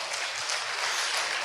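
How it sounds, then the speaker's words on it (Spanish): A church congregation claps in a dense, continuous wash of applause that fills the whole moment, loud and even, with no voices above it. "Dale un aplauso al Señor Jesús."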